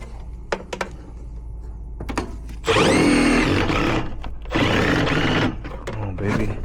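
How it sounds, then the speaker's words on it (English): A cordless drill whirs in two sustained bursts, driving screws into a furnace inducer, with short taps and handling noise between runs. "Please don't tell me this drill finna die."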